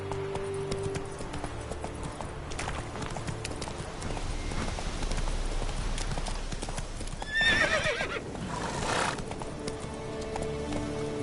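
Roach, a horse in The Witcher 3 video game, gallops with rapid, rhythmic clip-clop hoofbeats that carry on steadily, and a loud neigh breaks through partway along.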